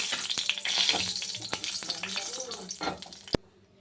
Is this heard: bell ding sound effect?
no